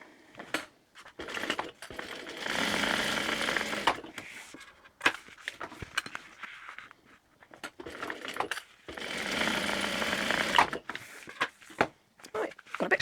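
Domestic sewing machine stitching down the edge of a fabric strip at a quarter-inch seam for a tote bag, running in two sustained bursts of steady whirring with quieter handling noise between.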